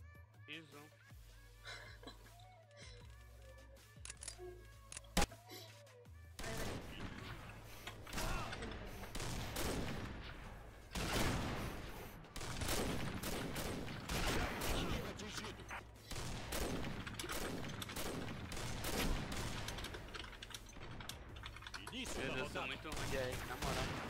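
Combat Arms video game gunfire: dense bursts of automatic shots and rapid volleys, loud and sustained over most of the stretch, with players talking underneath throughout.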